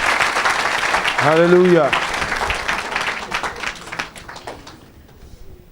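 Church congregation applauding loudly across the whole stretch while a voice calls out over the clapping; a brief sung or chanted tone rises near the start and the applause gradually thins toward the end.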